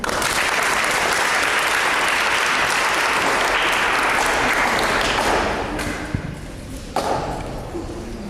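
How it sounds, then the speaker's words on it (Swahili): A children's assembly audience at a school election event claps in a dense, sustained round of applause that rings on for several seconds, then thins out into scattered claps and a few thumps. "Makofi."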